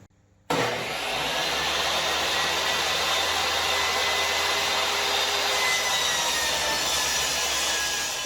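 A saw rips a wooden board lengthwise to 5.5 inches wide for a wine crate, starting abruptly and holding a loud, steady, close whirring roar with cutting noise, no voices.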